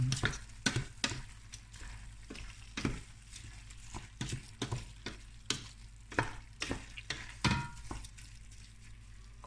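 Paella with artichokes and rice stirred in a frying pan, a spoon scraping in an irregular rhythm of sharp strokes over a constant sizzle, close and clear.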